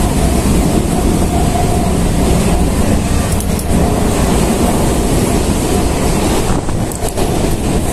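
Loud, steady rumble of a moving passenger train bound for Basirhat, heard from inside the carriage, with continuous clattering and roar for the whole stretch and no talking.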